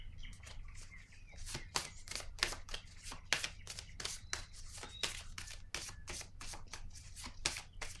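Tarot cards shuffled by hand, a steady run of crisp riffling and slapping bursts, close and moderately quiet, with no talking.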